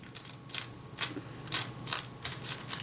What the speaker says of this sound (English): What we're interested in seeing is whether that shutter will run down correctly.